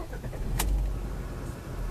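A 2018 Volkswagen Polo 1.6 MSI starting up, a brief crank followed by a low steady idle, heard close from inside the car with no talking.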